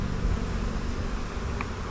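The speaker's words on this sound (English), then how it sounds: "That's bees fanning the air, putting the pheromone out into the environment." Honeybees fan their wings inside a hive box, giving off a steady, dense buzzing hum. The drone holds at an even level close by, with no voices over it.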